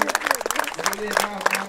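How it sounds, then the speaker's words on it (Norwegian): Audience applause at a Norwegian figure-shooting championship final, scattered clapping close by that runs under continuous talk. "Nå var det så mye applaus at jeg hørte ikke hvor mye han fikk"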